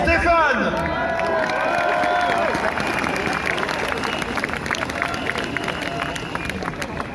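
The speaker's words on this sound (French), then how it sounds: "Je vous prie d'applaudir et d'écouter Stéphane." Applause and cheering rise from a crowd at a street demonstration on Place Pierre Laroque, a dense wash of clapping and voices heard fairly close and sustained throughout, with an amplified voice briefly audible at the start.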